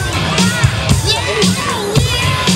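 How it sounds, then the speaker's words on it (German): A crowd at a Braunschweig trend-sports event cheers and shouts in a loud, continuous burst of mixed voices and whoops, close and dense. "Ich bitte um einen Applaus für Senat Krosic."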